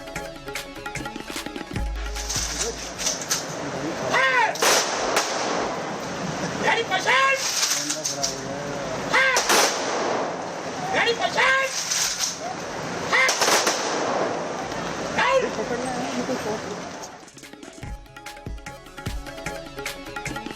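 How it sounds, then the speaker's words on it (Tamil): Gun salute of rifle volleys at a state funeral cremation for former Gujarat chief minister Vijay Rupani, heard as repeated sharp bursts of cracks amid crowd noise and voices. "துப்பாக்கி குண்டுகள் முழங்க அரசு மரியாதையுடன் தகனம்."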